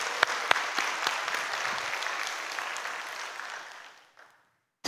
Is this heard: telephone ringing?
no